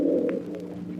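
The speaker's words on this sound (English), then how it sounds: "the friendly, forever hungry pigeons that congregate and coo" Pigeons coo on Boston Common, a couple of short soft calls rising over a steady low murmur of city and crowd noise.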